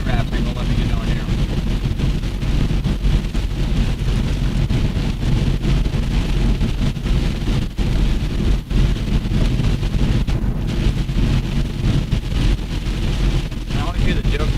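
Heavy rain and wind near a tornado, a steady, loud roaring wash of rain and buffeting wind noise, with someone talking over it.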